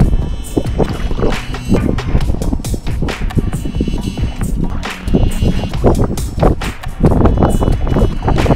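A kayak sails across a channel on Lake Superior without paddling, heard as steady rushing water and hull slosh under heavy buffeting wind noise on the microphone, with no talking.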